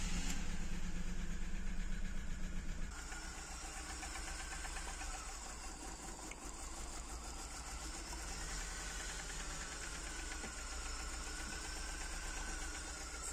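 A BMW E36 car engine sputters loudly for a few seconds, then settles into a steady, rapid idle that runs on without pause.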